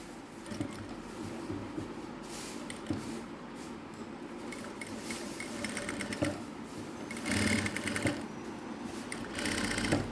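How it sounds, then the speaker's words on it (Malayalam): A sewing machine stitches the folded edges of a collar in short, stop-start bursts of rapid clatter, with louder runs near the end. "ഇതിൻ്റെ അരികുകളൊക്കെ നമ്മൾക്കൊന്ന് മടക്കി അടിച്ചു കൊടുക്കാം"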